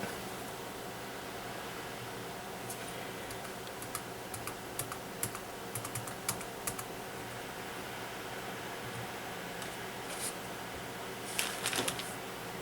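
Keys click on an old Toshiba laptop keyboard, sparse at first, then in short bursts of quick, light taps over a faint steady hum.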